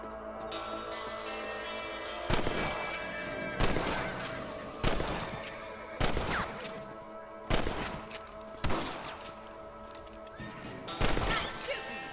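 Rifle shots fired at rabbits in Red Dead Redemption, about seven sharp cracks spaced a second or two apart, loud over a bed of game ambience and horse sounds.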